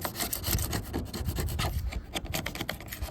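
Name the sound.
scraping with a knife on a jon boat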